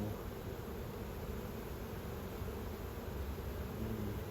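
Honeybees on a frame during a hive inspection give off a faint, steady, continuous buzz, soft and unbroken, with no one speaking.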